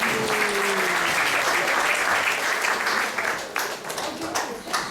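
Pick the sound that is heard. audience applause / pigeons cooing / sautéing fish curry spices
audience applause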